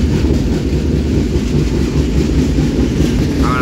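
A passenger train runs into Puri station, giving a loud, continuous close rumble of wheels and carriage noise heard from on board, with no talking.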